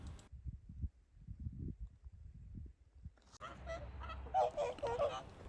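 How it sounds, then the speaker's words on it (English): Quiet low rumbling gives way to a flock of whooper swans trumpeting and honking in bitter winter cold in southern Hokkaido, several calls overlapping at moderate distance. "Just this flock of bored-looking hooper swans"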